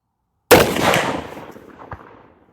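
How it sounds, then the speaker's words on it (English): A single loud, close muzzleloader shot from a CVA Crossfire loaded with a 290 grain bore driver and a 120 grain Federal Firestick, an abrupt blast after silence that rolls away in a long echoing tail. "second shot with the 290 grain bore drivers and the 120 grain Federal Firestick. Fire in the hole"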